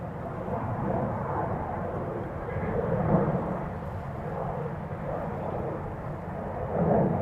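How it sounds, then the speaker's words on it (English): Airliner taking off from a runway at Schiphol Airport, a distant broad rumbling roar that swells and ebbs steadily throughout, heard from afar with no talk. "another departure just took off from runway center."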